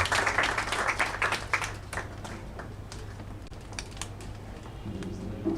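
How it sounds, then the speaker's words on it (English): Applause at a book launch as a speaker takes the floor, dense clapping that is strong at first, then fades to scattered claps over a low hum. "A round of applause for him as he takes the floor."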